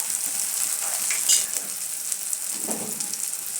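Okra frying in hot oil with turmeric, salt, coriander powder and garam masala gives a brief, steady, close crackling sizzle.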